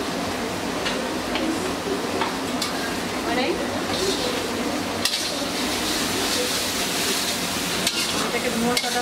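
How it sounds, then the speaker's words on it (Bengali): Ground chili, turmeric and coriander spice paste being stirred and fried in a pan, with a steady sizzle and scraping stir sounds throughout, plus a few sharp clicks. "এটাকে মশলাটা ভালো করে কষিয়ে নেব।"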